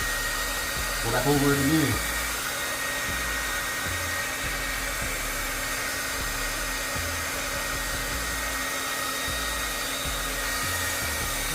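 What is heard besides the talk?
heat gun heating tire stickers on a Hellcat tire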